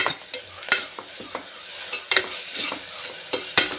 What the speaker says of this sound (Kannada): ಹಸಿ ವಾಸನೆ ಹೋಗೋವರೆಗೂ ಒಂಚೂರು ಫ್ರೈ ಮಾಡಿ